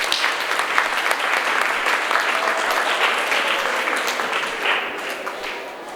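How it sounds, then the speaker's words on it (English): An audience at a Grade 5 school meeting applauds staff, a steady dense patter of many hands clapping throughout, loud and close, easing slightly near the end. "Let's give them a round of applause."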